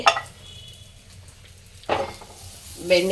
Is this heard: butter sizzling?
yes